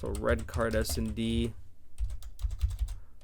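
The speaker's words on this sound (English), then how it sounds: "Sorry for the audio listeners hearing my typing." Rapid clicking of typing on a computer keyboard, close and crisp, following someone talking; the keystrokes continue alone in quick irregular bursts.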